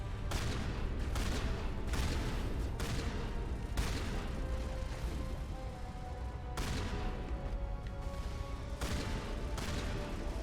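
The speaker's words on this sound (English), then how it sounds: "Just sniping with this shotgun." Rapid shotgun blasts ring out in a Mass Effect: Legendary Edition firefight, a dense run of sharp booming shots at irregular intervals over a constant loud battle background.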